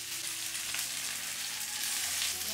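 Pathrode slices sizzle steadily on a hot tawa, a soft even hiss of frying with no voices over it.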